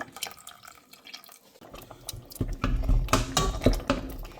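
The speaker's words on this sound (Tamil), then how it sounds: "இதுக்குள்ள நான் கொஞ்சம் தேங்காய் பால் ஊற்ற போகிறேன்" Coconut milk poured into a pot of spinach curry, a soft liquid splash and gurgle that grows louder in the second half, close by with no talking.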